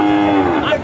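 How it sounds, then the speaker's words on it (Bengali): A Sahiwal heifer lets out a single short, loud, close moo with a clear low tone. "এগুলি শাহিওয়াল জাতের বকনা গরু।"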